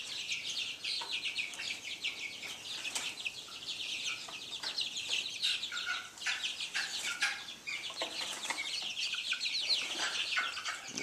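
Backyard chickens, among them a speckled Sussex hen, cluck and chatter continuously close by, the soft overlapping calls steady throughout with no talking.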